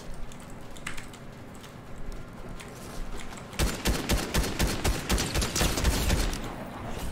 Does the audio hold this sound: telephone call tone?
no